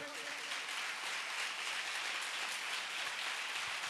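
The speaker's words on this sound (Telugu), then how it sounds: "శక్తి కొలది చప్పట్లు కొట్టండి." A church congregation claps hands together in a steady, dense wash of applause that fills the room, continuous and even throughout, with voices faintly beneath.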